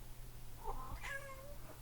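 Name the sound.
cat meowing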